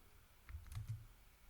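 A few quick keystrokes on a computer keyboard while writing Python code, a short cluster of soft clicks heard close and quiet in a still room.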